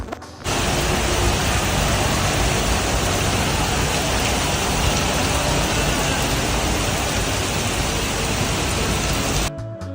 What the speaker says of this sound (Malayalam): മലേഷ്യയിൽ വർഷം മുഴുവനും വല്ലപ്പോഴുമൊക്കെ ഇങ്ങനെ മഴ പെയ്തുകൊണ്ടിരിക്കും